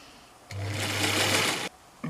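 A sewing machine stitches fabric for a scrap bag in one steady, close burst of just over a second, whirring evenly before stopping, with quiet room sound around it.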